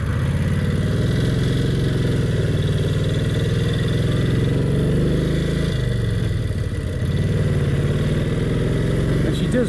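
A vintage Brough Superior SS80 motorcycle, over 80 years old, pulls away with a loud, close engine drone that rises in pitch, dips briefly as it shifts, then climbs again.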